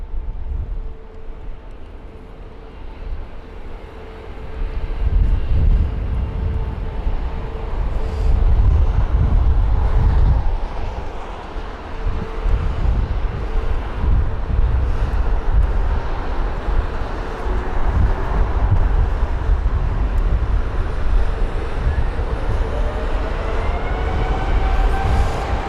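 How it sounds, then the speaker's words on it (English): A Virgin Atlantic Airbus A330neo airliner taxiing at London Heathrow, a steady low engine rumble with wind noise that swells and holds across the whole stretch, some distance away. "So there's the Virgin Atlantic A330 Neo."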